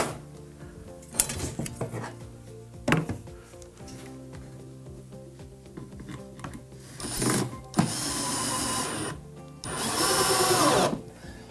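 Power drill driving screws into pallet wood timber while building a chair, several short whirring bursts of the driver, the last ones loud and sustained, separated by quiet handling clatter.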